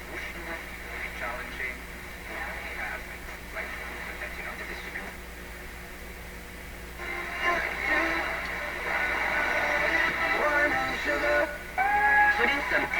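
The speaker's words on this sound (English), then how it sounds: "It's a weak signal, it sounds distorted too." Nordmende Norma Luxus tube radio tuned to a weak FM station, giving a steady hiss and distorted, crackly broadcast voices and music that grow louder partway through.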